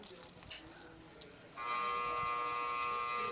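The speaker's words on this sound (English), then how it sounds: "That is the buzzer that you hear." At a poker final table, a shot clock buzzer sounds as a steady, sustained electronic tone partway through and holds to the end, following a stretch of quiet room noise and faint voices.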